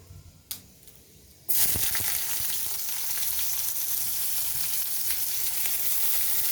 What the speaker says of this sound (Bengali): এবার পেঁয়াজটাকে আমি একটু ঝাল করে ভেজে নেব।